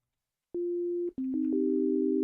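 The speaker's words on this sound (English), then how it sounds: "Oh my god, another sine wave." A hardware synthesizer plays steady, pure sine-wave tones alone, one sustained note giving way after a brief gap to overlapping held pitches with soft clicks at each onset.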